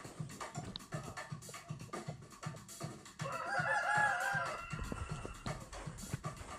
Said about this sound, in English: Only got 3 roosters left.